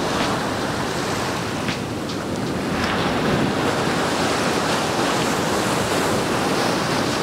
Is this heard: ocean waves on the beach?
yes